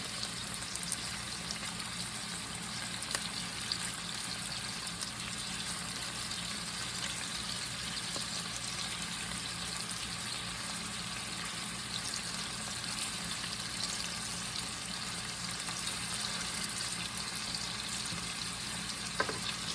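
Swedish meatballs fry in a pot with a steady, close, dense sizzle and crackle that runs unbroken throughout, with no talking.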